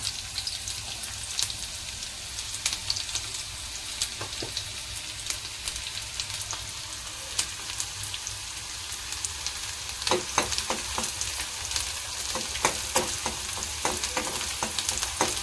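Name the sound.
onion frying in oil for cabbage sabzi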